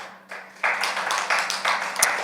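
Audience applause for the chairman at a civil rights conference, a steady wash of many hands clapping that swells in several waves and fills the room without speech.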